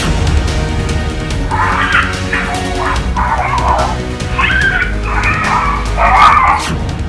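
A dog barks and yelps repeatedly during a leopard attack, a run of loud, urgent, close barks in irregular bursts over steady outdoor background noise.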